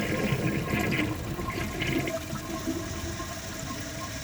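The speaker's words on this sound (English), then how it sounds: "let's give this another flush and see if it can take it" A round 2016 ProFlo Gilpin toilet flushes close by: a gurgling rush of water that swirls, then settles into a quieter refill trickle.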